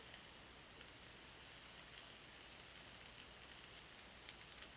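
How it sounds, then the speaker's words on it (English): Onion in vegetable oil sizzles steadily in a very hot saucepan, a faint, even hiss with small crackles and no voices. "Because the saucepan was very hot, immediately we're going to put our onion."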